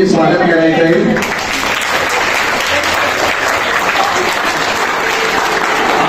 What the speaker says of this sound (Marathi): त्याबद्दल तुमचं देखील टाळ्या वाजवून तुम्ही स्वागत करायचं आहे